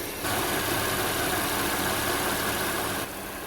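An Audi S4 B8 supercharged engine idles at a constant, close, even drone for a few seconds, with no voices and no changes in pitch.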